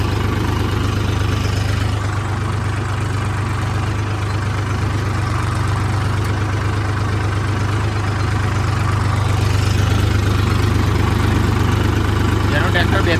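42 HP tractor engine runs in a steady low, loud drone while driving straight with both levers down, with someone speaking over the constant engine sound.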